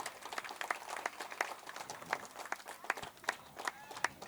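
An audience claps at a Tamil stage comedy performance, a steady patter of applause with sharp individual claps, moderately loud and fairly close.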